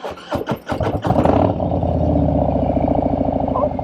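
A Harley-Davidson Low Rider S engine with a Bassani aftermarket exhaust cranks in a few quick bursts, catches, then settles into a loud, deep, throaty idle with a rumbling exhaust.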